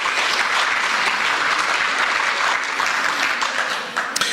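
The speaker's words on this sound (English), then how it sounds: "let's give her a round of applause" Loud, dense applause from an audience at a Community Democratic Club event, greeting Kimberly Ellis. It fills the whole stretch steadily and tapers slightly near the end.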